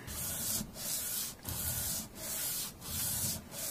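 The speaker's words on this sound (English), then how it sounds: "Long strokes like this on the sandpaper are a good way to ensure the overall flatness is retained" Long, even strokes rub a guitar part back and forth on sandpaper during a 7-to-6 string electric guitar conversion, a close, rhythmic rasping hiss in about five sweeps with brief pauses between, no voices.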